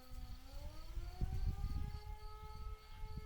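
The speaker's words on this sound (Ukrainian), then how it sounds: "І одразу ввімкнулася сирена." An air raid siren wails steadily nearby, its pitch slowly rising, with low rumbling noise beneath it.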